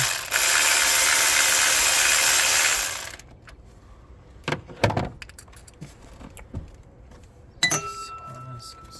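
A ratchet works on bolts in the engine bay of a 2020 Hyundai Palisade Limited during a spark plug change: a loud, rapid clicking burst lasting about three seconds, then sparse metallic clicks and clanks.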